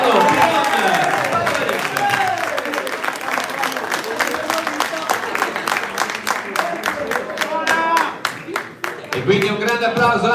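Steady applause fills a youth boxing tournament hall in Padova after a bout, many hands clapping in a dense, even patter, while an announcer speaks over it through a PA.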